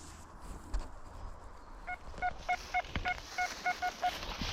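A series of short, evenly spaced electronic beeps, about a dozen in a row, from a metal detector signalling a lot of iron, rising out of quiet forest background noise.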